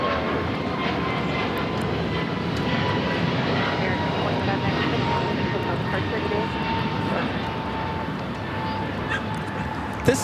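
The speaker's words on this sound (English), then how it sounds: "2978 taking off to Charlotte on the A321neo." American Airlines A321neo taking off from Los Angeles, a sustained engine roar with a faint steady whine above it, fairly distant and even in level.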